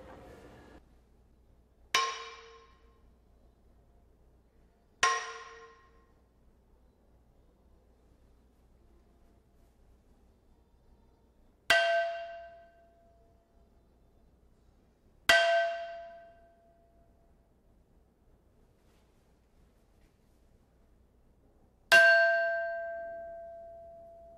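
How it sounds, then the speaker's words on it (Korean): Korean pyeongyeong stone chimes, some fired from clay, some cut from ordinary stone and some from chime-stone, are struck five separate times, each a bright, ringing strike that fades slowly into near silence before the next. "편경은 돌이지만 그걸 타격했을 때"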